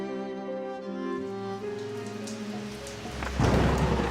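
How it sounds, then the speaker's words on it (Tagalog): A steady wash of heavy rain builds, then a loud rumble of thunder swells near the end, with the downpour continuing underneath. "parehas kaming nabigla sa biglaang pagbulog. Kasunod ng pagbuhos ng malakas na ulan"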